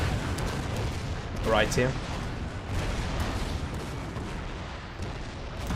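A battery of 26 cannons firing in the Total War: Fall of the Samurai strategy game, a continuous rumbling barrage with heavier booms rising in the middle, heard under someone talking.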